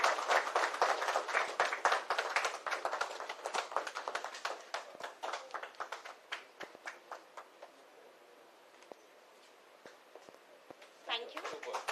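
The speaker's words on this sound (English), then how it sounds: "Ladies and gentlemen, please give a big round of applause." An audience at a live business continuity awareness event bursts into dense applause that thins out and fades, with a brief renewed patter of clapping near the end.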